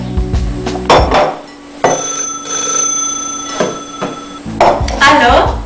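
A ringing telephone bell sounds in a home kitchen during a French cooking session with frosting ingredients, bursts of ringing alternating with loud children's voices and clattering, sharp tonal rings standing out between speech.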